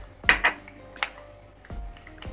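A metal spoon clanks against a pan a few times while turmeric powder and salt are mixed into a roasted poha chivda mixture, with sharp isolated knocks close by and no talking.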